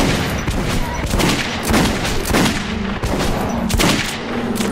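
Pistol shots in the video game Metro 2033 Redux ring out as a loud, close series of sharp reports at a fairly steady pace, layered over game ambience and a player's voice.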